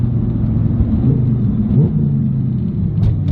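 Audi R8 engine pulling under power from inside the car, a loud, constant low rumble with a slight swell in pitch, steady and close throughout.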